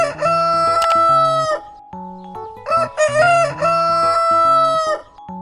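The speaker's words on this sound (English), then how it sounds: "Roosters crow to greet the morning." A rooster crows loudly and up close in two long, drawn-out calls, each rising and falling, with a short pause between them and no other sounds.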